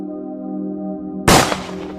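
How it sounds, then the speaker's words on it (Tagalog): A single loud gunshot cracks out of a low sustained drone, a flashlight-bearing father firing a gun toward a window in a dark horror scene, its sharp blast trailing off into a fading reverberant tail. "kasabay ng malakas na putok ng baril"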